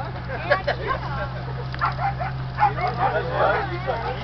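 Dog barks and yips come in short bursts a short way off, under a steady low hum, while people talk nearby in Portuguese.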